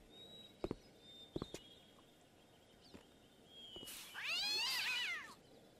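After being sprayed with water, a cat in the video game Gabriel Knight 3 lets out one loud, drawn-out, wavering meow near the end, preceded by a few sharp clicks over a quiet background.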